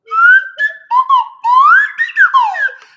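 A slide whistle played in short phrases, its clear, loud tone gliding up and down in pitch with brief gaps between swoops and no talking over it.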